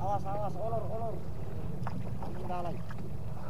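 Motor of a small fishing boat running steadily near the rod off Kodingareng island, Makassar, a continuous low drone with wind across the microphone and voices talking over it.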